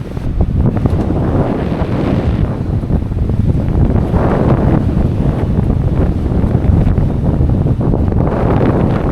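Strong wind of about 23 to 24 knots buffets a sailing yacht at sea off Turkey. A loud, constant roar of wind and microphone buffeting mixes with the rush of waves, and no one speaks.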